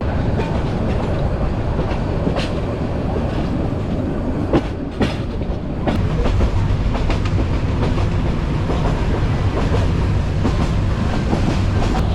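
Bangladesh Railway passenger train running from Chittagong toward Feni, steady loud rumble with rhythmic clickety-clack of wheels over rail joints, heard from inside a carriage throughout without speech.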